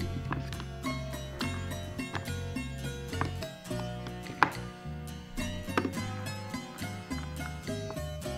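Play-dough trimmed for a pretend toast, with a string of soft, irregular cutting and tapping knocks close to the microphone over a quiet background and no talking.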